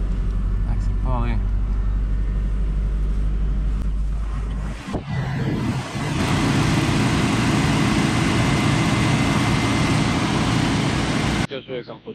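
Nissan 200SX engine cranks and catches after a few seconds, then settles into a loud, steady idle that lasts until the end.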